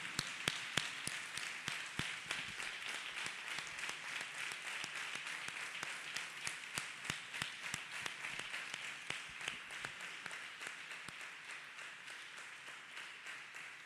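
A church congregation claps hands in a steady, even rhythm for about fourteen seconds, with sharp regular beats under a faint wash of crowd noise and a little voice.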